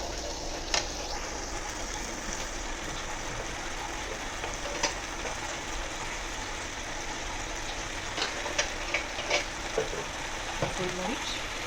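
Chicken ghee roast sizzling in a pan after curd is added, a steady close fry with scattered sharp crackles and occasional scraping stirs, no talking over it.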